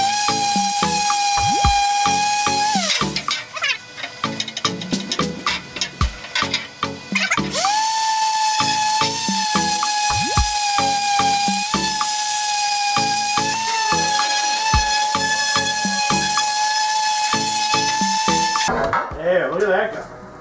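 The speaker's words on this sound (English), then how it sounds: "just a regular palm sander for like wood or metal or refinishing or whatever" An ordinary palm sander fitted with 320-grit wet-or-dry paper, used dry, works aluminum on a 2001 KTM 250 two-stroke with a steady high whine that repeatedly drops and restarts in short bursts, close and loud.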